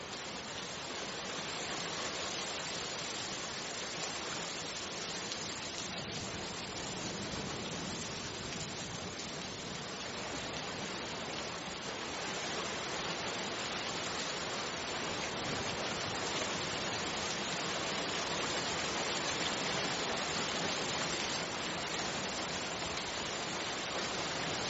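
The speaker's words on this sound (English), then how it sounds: "That was supposed to be rain." A downloaded recording of rain plays as a steady, dense wash of hiss with no distinct drops, closer to static than to rainfall, unchanging in level for the whole stretch with no voices.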